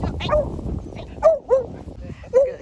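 A dog lets out three short barks close by, spaced unevenly, mixed with nearby talk in an outdoor yard.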